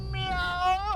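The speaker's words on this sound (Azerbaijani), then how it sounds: "Şeyde Sultan, benim sarı pişiyim." A single drawn-out meow from a cat, close and clear, rising and then falling at the end.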